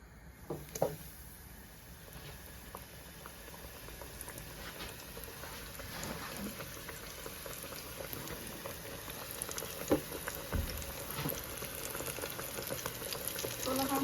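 Flour-coated chicken goes into oil that was heated beforehand and fries with a steady bubbling sizzle and crackling pops that build gradually, with faint clinks now and then.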